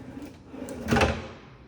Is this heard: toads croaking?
no